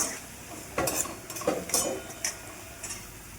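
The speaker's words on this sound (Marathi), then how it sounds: "मग ते छान हलवून घ्यायचं आहे आपल्याला दोन मिनटं हे आपल्याला तेलात छान परतू द्यायचं आहे" Potato and pea samosa filling stirred in hot oil in a pan, with a few distinct scrapes and clinks of a spoon against the vessel over a faint background sizzle, no voices.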